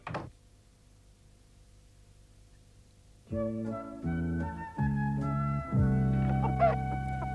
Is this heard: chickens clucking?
yes